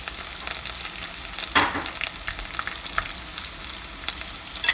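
Crushed garlic frying in oil in a pan for mango pulihora, a steady close sizzle with brief crackles and one louder burst of spatter, no voices.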